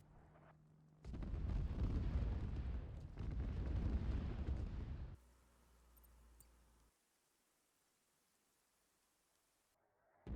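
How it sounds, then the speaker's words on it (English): Cluster bomb airstrike in Arma 3 Antistasi sets off a dense, rumbling barrage of explosions lasting several seconds, loud and boomy, then fading to a low distant rumble and quiet before a sharp final hit. "At the same time as I sent in a cluster bomb airstrike, we eliminated a bunch of the defences"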